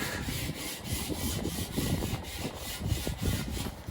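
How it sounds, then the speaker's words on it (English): A hand rubs back and forth over asphalt roof shingles, producing a steady gritty scraping with a rhythmic push-pull texture, close and alone without speech. "Now we'll just rub it around and we'll find it"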